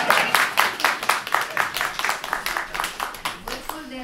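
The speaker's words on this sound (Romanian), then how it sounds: "Aplauze prelungite!" Prolonged applause at a book launch for author Val Mănescu in Comănești, a run of evenly spaced, fairly distinct claps at a steady rhythm, moderately loud and close.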